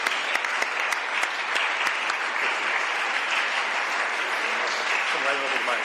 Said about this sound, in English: So Lauren, please come on up and a round of applause for Representative Davis.